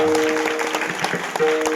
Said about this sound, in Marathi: जोरदार टाळ्या वाजवा त्यांच्या आई वडिलांना.